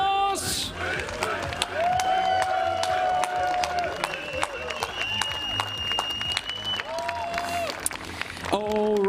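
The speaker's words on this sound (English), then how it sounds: "Round of applause." A crowd claps and cheers for the MVPs at a scaffolding competition event, with sustained applause and whoops under loud voices and tonal sounds, a lively busy mix throughout.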